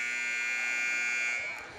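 A basketball game buzzer sounds at a girls' high school game, a loud, steady electronic tone held for over a second before it cuts off.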